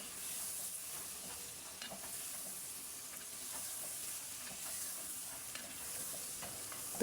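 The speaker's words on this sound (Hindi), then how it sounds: "इसके बाद प्याज डाल देंगे। प्याज को थोड़ा सा भून लेंगे।" Onions frying in a pan after ginger-garlic paste, for chicken white biryani: a soft, even sizzle and hiss with faint stirring scrapes, steady and fairly quiet, no talking.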